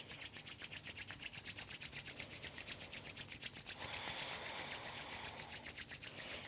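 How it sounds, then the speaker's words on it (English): Palms rub briskly together to build warmth, a steady back-and-forth swishing rhythm, close and soft, with no talking. "Let's rub the hands together, make some heat in your hands."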